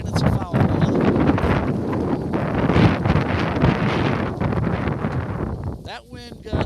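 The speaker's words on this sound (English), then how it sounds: "That wind gust was so hard it lifted up the weight that we have on the canopy." Strong wind gusting across an outdoor softball field, a loud continuous roar buffeting the microphone for several seconds with a commentator's voice partly beneath it.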